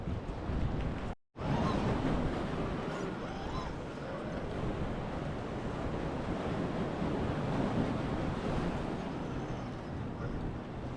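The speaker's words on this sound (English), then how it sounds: "you guys can see the waves out there. They were big." Big waves roll and surge on the open water near the Wisconsin Point lighthouse, a continuous loud wash of surf mixed with heavy wind buffeting the microphone, broken once by a brief dropout.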